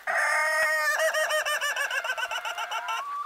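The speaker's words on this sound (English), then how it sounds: "There you go, laughing chickens." Laughing chickens on a farm in West Virginia give a close, loud call that starts as a drawn-out tone and breaks into a rapid, pulsing cackle, like a chuckle.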